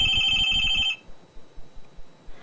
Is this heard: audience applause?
no